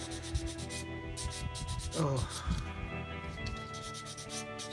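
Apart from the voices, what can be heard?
sanding down plastic model tank wheels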